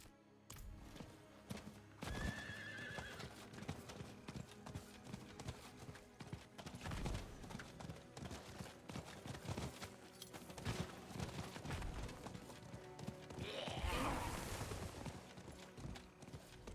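Video game horse hooves clopping steadily in a continuous stream, with a neigh or whinny rising up twice over the galloping and faint game noise.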